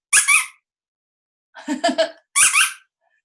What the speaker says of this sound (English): I have a little squeaker here.